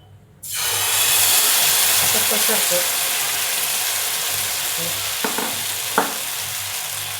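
Poha and rava amboli batter sizzles and fries in oil on a pan, a loud steady hiss that starts abruptly as the batter hits the oil, with a few faint clicks near the end.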